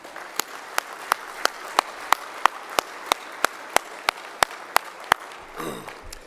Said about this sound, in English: Let's give Terry a round of applause,